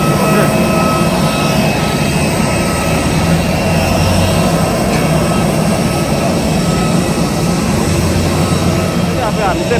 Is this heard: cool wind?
no